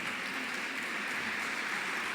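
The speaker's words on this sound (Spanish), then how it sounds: "¿Cuánto le pueden dar un fuerte aplauso al Señor?" A church congregation applauds during a Spanish-language worship service, a steady, even wash of clapping held at moderate distance with no voices over it.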